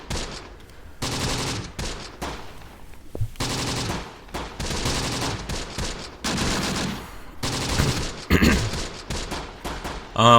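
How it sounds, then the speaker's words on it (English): Machine gun fire in the World War II tactical game Close Combat, Battle of Longstop Hill, comes as repeated loud bursts of rapid gunfire separated by short pauses, with other shots mixed in. "Engage the machine gun, boys."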